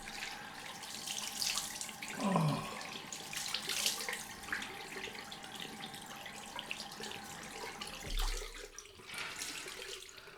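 Bathroom tap running into a sink while cold water is splashed up before a straight-razor shave, a continuous close stream broken by several quick splashes and a faint voice.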